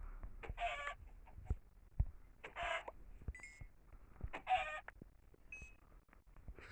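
Minecraft chickens clucking in a modded survival game, a few short, clear cluck calls in separate bursts with quiet gaps between them, heard without talk.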